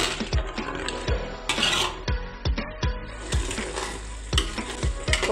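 Masala paste and peas sizzle loudly in a hot pan for a paneer and pea curry, with a spatula scraping and stirring in steady, close strokes over the continuous frying hiss.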